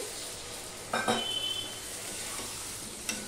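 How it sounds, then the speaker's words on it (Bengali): Spice paste of ground coriander and cumin, loosened with a little water, sizzles and bubbles steadily in a pan at close range, with a couple of brief clatters of stirring and no speech. "সম্পূর্ণটা মিশিয়ে নিয়ে আমি মশলাটা ভালো করে কষিয়ে নেব"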